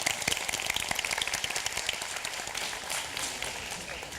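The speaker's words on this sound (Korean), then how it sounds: "박수 한번 칠까요?" Audience applause at the final of a high school team debate competition, soft and distant clapping from a crowd, a steady patter that holds evenly throughout.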